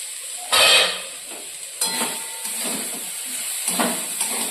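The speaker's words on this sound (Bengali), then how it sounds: "এরপর এটাকে আমি ভেজে নেবো, একটু ঢাকা দিয়ে ভেজে নেবো।" Capsicum and paneer roll filling fries in a covered pan with a steady sizzle and hiss, broken by a few louder bursts of spitting and stirring clatter, close by with no talk.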